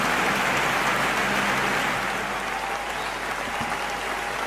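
Loud, dense applause from a large audience at a Hindi kavi sammelan poetry gathering celebrating the new year, a continuous roar of clapping, like heavy rain, that carries on unbroken and eases slightly toward the end.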